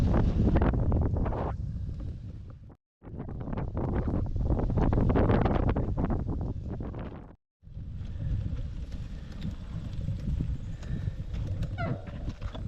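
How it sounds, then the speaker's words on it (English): Strong wind buffets a microphone while cycling through central Nova Scotia between PEI and Halifax. The roar is loud and constant, broken by two brief dropouts, and no one talks. "let's fight the wind for 45K instead"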